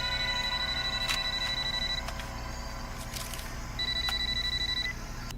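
A telephone rings in two long electronic bursts separated by a pause, with faint clicks and a steady low hum underneath.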